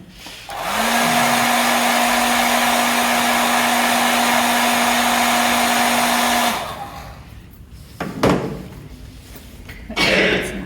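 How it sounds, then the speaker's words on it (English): A hair dryer blows with a loud, steady whine for about six seconds drying a pen-and-wash painting, then cuts off, followed by a few knocks and rustles. "let's dry it with a dryer"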